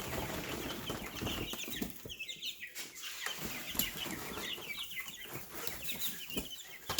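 Baby chicks in a brooder set up in a garage, peeping with high, thin chirps that overlap steadily and fairly close, with no voices.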